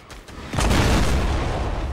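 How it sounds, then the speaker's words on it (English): In the Fortnite video game a guided missile explodes. A couple of faint pops come first, then a loud boom bursts and leaves a sustained roaring rumble until the end. "The guided missile was not ours."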